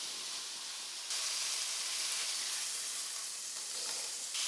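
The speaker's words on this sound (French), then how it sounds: "on attend quelques minutes que notre viande fasse une croûte" Beef sears in a cast-iron pot with a steady, close hiss of sizzling fat that holds throughout, swelling slightly louder partway through, with no voices.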